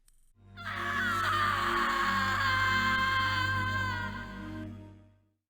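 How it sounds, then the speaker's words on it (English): A woman's long, high-pitched scream in the video game Harvester rings out for several seconds, loud and sustained with a synthetic edge, fading out at the end. "We hear Stephanie scream again"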